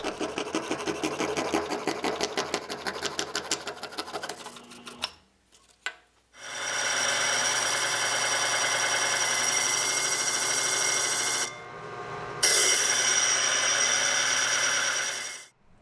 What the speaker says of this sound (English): I'll roughly cut this out on the scroll saw, then finish the edges on the disc sander.